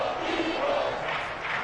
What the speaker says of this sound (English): The crowd getting into it as we come up on a big 3rd down.